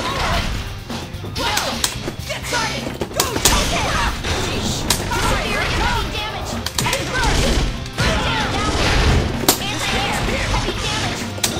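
Persona 4 Arena fighting game action with a character leaping and shooting: dense crashes, impacts and sharp shots in rapid succession, loud and continuous, with music and occasional voices mixed in.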